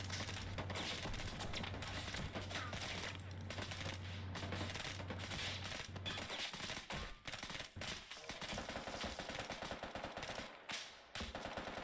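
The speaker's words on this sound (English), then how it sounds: "I'm taking way too much fire from the enemy" Heavy gunfire in the video game Call to Arms, conquest mode with a mod: dense, rapid machine-gun bursts and overlapping shots rattle nonstop, with a steady mechanical drone under the first half.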